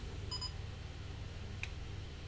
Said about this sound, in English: So let me just show you what happens when the gimbal turns off.